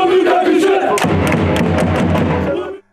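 Manisa FK's young supporters' group cheers and chants in a loud, rhythmic crowd roar, with thumping beats under the voices, before the noise cuts off abruptly.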